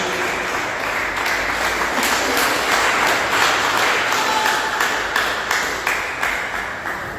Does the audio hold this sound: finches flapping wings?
no